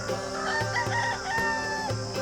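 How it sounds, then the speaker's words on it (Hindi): Chickens at a crowded goat market, clucking and crowing close by in repeated bursts over steady background market noise. "ये मुर्गियाँ भी मिल रही हैं यहाँ पर।"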